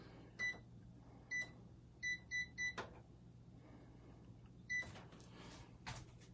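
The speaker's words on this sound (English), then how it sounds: "I'll set it up here on the microwave." A microwave oven timer is set in a home kitchen during vegan pumpkin chocolate cookie baking: six short, sharp key beeps, spaced unevenly with a quick run of three, plus a few soft clicks in a quiet room.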